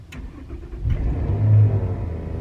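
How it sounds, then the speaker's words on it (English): Noisy car engine revving up from a low idle rumble into a louder, swelling roar that peaks and settles, heard close with no talking. "Listen to that car. I love the engine of this car."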